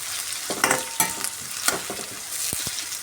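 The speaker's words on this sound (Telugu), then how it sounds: "ఇప్పుడు కొద్దిగా ఫ్రై చేసుకుందాము ఇవి ఎర్రగడ్డలు మెత్తబడే మెత్తబడే వరకు మనము ఫ్రై చేసుకుని" Potatoes frying in a pan for a potato curry, a steady sizzle with a few scraping stir strokes and clinks, close and fairly quiet, no voices.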